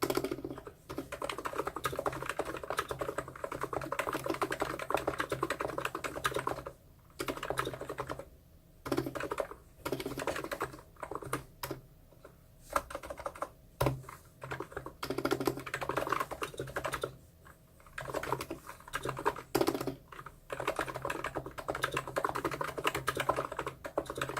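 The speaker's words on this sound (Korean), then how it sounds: "제가 이렇게 타건을 해보았는데요" Steady clacking of a mechanical keyboard (ABKO K985p V2) with PBT dye-sublimated keycaps being typed on, with quick bursts of keystrokes and brief pauses, close and fairly quiet.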